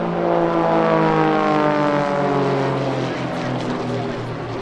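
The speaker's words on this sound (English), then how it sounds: "In this display we see one extra 260, an Extra 300S, which is the single-seat version of the original Extra 300, and 3 Extra 300Ls." Extra 300 aerobatic propeller planes at the Sichuan Airshow 2019 make a loud, steady engine drone with a shifting pitch that sweeps slowly downward, close and sustained, and no talking is heard.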